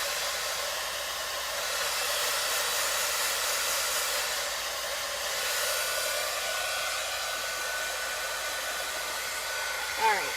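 A hair dryer blows steadily on wet paint on a baby gift craft project, a loud, constant close-up whoosh that holds for about ten seconds before a small bump at the end.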